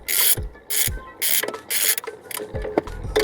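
A ratchet with long extensions loosens a bolt on an Acura TSX/Honda Accord clutch bracket, giving several loud close bursts of rapid clicking separated by short pauses.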